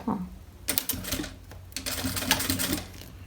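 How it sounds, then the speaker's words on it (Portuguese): Sewing machine stitching a zipper onto plastic, running in two close bursts of rapid mechanical chatter separated by a brief pause, with light handling noise before it starts. "eu vou passar a costura aqui, prendendo esse zíper no meu plástico"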